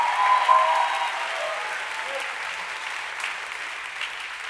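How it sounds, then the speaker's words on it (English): A church congregation applauds steadily, a dense wash of clapping that stays even and fairly loud throughout, with a few brief voices mixed in. "Keep on clapping."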